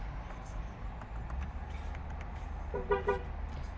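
A Range Rover Sport sounds short horn toots as its PIN immobiliser alert triggers, two quick beeps heard faintly over a low engine rumble.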